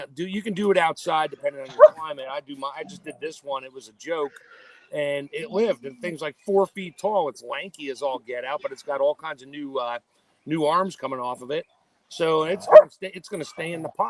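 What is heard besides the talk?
dogs barking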